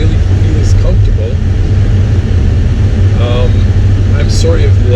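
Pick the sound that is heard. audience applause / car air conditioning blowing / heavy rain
car air conditioning blowing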